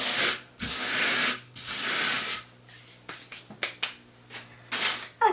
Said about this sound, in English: I'll then sand this and apply another second coat.